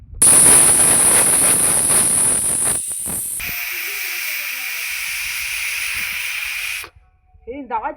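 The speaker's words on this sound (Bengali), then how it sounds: "দুটো তিনটে সিটি মারা হয়ে গেছে" A pressure cooker whistle blasts steam in a loud, hissing jet for about three seconds, then drops to a thinner, steadier hiss that stops abruptly near the end, followed by a brief faint voice.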